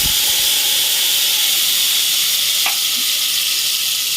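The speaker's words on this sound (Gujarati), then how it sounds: "ચટણી નાખી દઈશું લસણની. આપણે એમાં થોડીક હિંગ એડ કરી દઈશું." Garlic chutney and asafoetida sizzle loudly in hot oil in a pan while dal is being made, a steady close hiss of frying that runs unbroken from start to end with a brief stir partway through.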